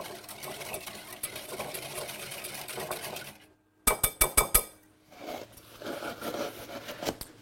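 Egg yolks, whole eggs and sugar being mixed in a bowl off the heat, with a steady run of brisk whisking strokes, a brief pause, then a few sharp clinks against the bowl before the mixing resumes.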